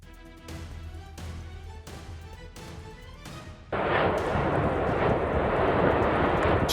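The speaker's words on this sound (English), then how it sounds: "Strong volcanic activity erupted across the Canary Islands" Volcanic eruption with lava fountains in the Canary Islands: a steady deep rumble with rhythmic booming bursts, then a sudden louder, continuous roaring blast that persists to the end, close and powerful.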